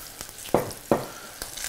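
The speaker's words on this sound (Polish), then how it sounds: "I teraz je po prostu dusimy." Chanterelle mushrooms simmer with 30% cream in a pan, a soft steady sizzle broken by a few louder bubbling spurts and faint clinks, with no talking.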